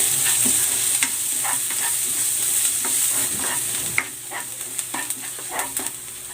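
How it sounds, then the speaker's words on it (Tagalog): Garlic and onion sauté in a hot pan for menudo, with a steady bright sizzle broken by scraping stirs and utensil clicks. The stirring grows sharper and more frequent near the end. "Magigisa na ako ng bawang."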